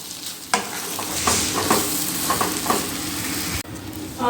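Toor dal and dried red chillies sauté in a pan, crackling and hissing under repeated spoon scrapes and stirring knocks, close and fairly loud. A sharp clack partway through precedes a brief dip before the sizzle resumes.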